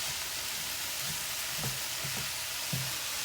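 Vegetables for crack slaw fry in turkey drippings with soy sauce, a soft steady sizzle filling the background while a few quieter stirring scrapes surface near the end, no talk.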